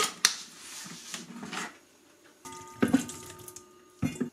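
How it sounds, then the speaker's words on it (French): Water poured into a Monsieur Cuisine food processor bowl, a few short splashing trickles and drips close by, with quiet pauses between pours and no talking. "Au bout des 3 minutes, vous rajoutez les 20 g d'eau."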